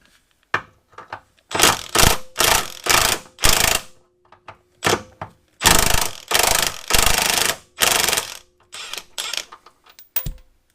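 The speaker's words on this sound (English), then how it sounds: "I got the impact turned way down." Impact wrench, turned down low, removing bolts from a BMW E46 3 Series control arm: repeated short, loud rattling bursts separated by brief pauses.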